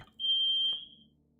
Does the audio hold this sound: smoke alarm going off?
yes